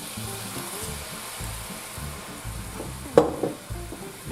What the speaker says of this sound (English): We're going to add a little white wine to it now.